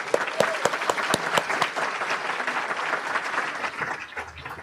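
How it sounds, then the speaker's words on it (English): Audience at a Madison South club meeting applauds loudly and steadily, dense clapping with a few sharper individual claps near the start, fading slightly at the end, no talking over it. "Let's give them all a round of applause."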